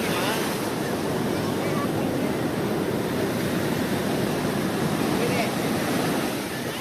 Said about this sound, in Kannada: ಬೀಚ್ ನೋಡೋದು ಸೈಕ್ ಆಗಿ ಬಂದಿದೆ ಅಲೆಗಳು ಮಾತ್ರ ಎಲ್ಲ ನೋಡಿ